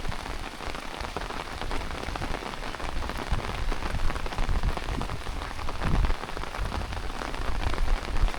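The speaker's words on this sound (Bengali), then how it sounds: "দক্ষিণ দিক থেকে বৃষ্টি পড়তেছে এখন।" Steady rain falls in a cool wind, driven from one direction, with a continuous close hiss of drops on surfaces and low rumbling gusts throughout, no voices.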